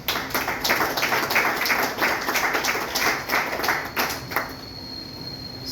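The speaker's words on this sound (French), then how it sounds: "je vous demande de l'applaudir" An audience applauds at the official launch of the 10th Vive Haïti book festival: a crowd's dense clapping steadily fills the room, then thins and fades away over the last couple of seconds, with no voices.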